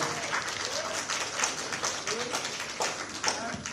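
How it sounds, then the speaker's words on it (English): Applause from an audience at a press event for an actress in Malaysia, with continuous crowd clapping at moderate distance and voices talking over it. "Let's give another big round of applause"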